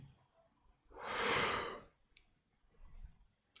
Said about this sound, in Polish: Aż mnie na ziew wzięło